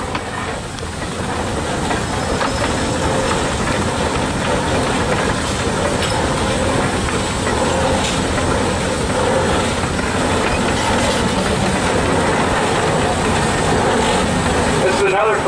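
A 1901 Russell 13 horsepower steam traction engine running at the Rough and Tumble steam show, a steady rumbling, clattering chug with hissing steam that stays loud throughout, with voices over it.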